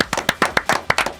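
A few people clap for a podcast guest in a quick, sharp burst of about nine distinct claps, close and crisp, with no one talking.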